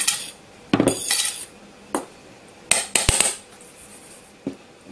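A utensil mixes flour and a sachet of yeast in a bowl for a pure-butter brioche, giving sharp, scattered clinks and knocks against the bowl over quiet background.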